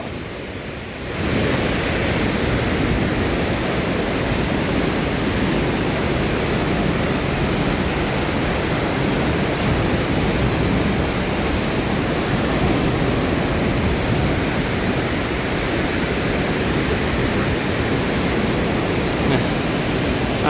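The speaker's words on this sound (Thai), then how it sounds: "น้ำตกตาดสว่าเด้อ" Tat Sawa waterfall rushing in a steady, loud, unbroken roar of falling water that stays constant throughout after a brief quieter start.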